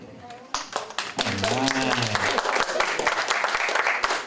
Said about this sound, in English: Cue the applause now.